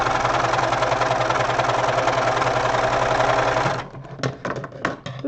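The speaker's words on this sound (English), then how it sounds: "This serger works awesome." A serger sewing machine runs in a steady, loud mechanical whir for nearly four seconds, then stops, leaving a few quieter clicks and handling noises.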